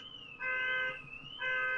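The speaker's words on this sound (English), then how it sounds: "That sounds like a car alarm." Car alarm going off outside, a steady electronic two-tone warble in two long bursts with a brief dip between, at moderate distance and alone with no talk.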